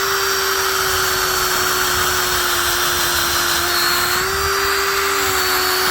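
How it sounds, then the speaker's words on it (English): A cordless drill with a 5/16 bit bores a tap hole into a maple tree in Western Pennsylvania, a loud, steady whine up close that dips briefly in pitch near the end. "Use a 5/16 drill bit."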